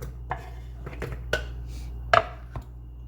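A knife cuts pineapple into small pieces on a cutting board, giving a few separate, close chopping knocks at an uneven pace over a low steady background hum.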